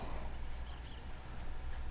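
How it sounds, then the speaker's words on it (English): Horse hooves clip-clopping in a steady rhythm while riding in the survival game 7 Days to Die, a soft continuous patter of steps over low rumbling game ambience. "So I'm getting on my horse here"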